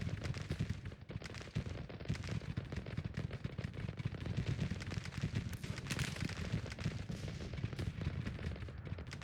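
Cannon fire in a Civil War strategy game, Grand Tactician, thunders in a dense continuous barrage of overlapping booms and crackling shots that roll on without pause, loud and close.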